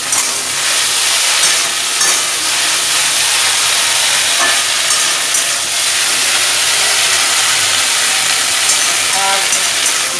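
Okra hits a hot pan of half-fried potatoes and onions, raising a loud, steady sizzle and hiss that holds evenly throughout, close up.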